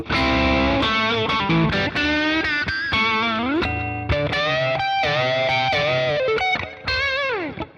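A bright, nasal Fender Telecaster tone plays a bluesy phrase of bent notes and quick picked runs, with a slightly distorted, quacky character and no talking.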